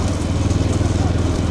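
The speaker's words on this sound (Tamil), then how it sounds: "முன்னாடி ஒரு பைக்" A motorcycle at a bullock cart race drones close by with a steady, throbbing engine hum that stays level through the moment, with a crowd-like wash behind it.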